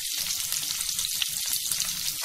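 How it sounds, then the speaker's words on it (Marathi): Large-cut onion tipped into hot oil with already browned garlic for a Maggi Manchurian stir-fry, giving a steady, dense sizzle that runs unbroken from start to finish with no voices. "आता आपण याच्यामध्ये मोठ्या साईज मध्ये कट केलेला कांदा घालायचा आहे।"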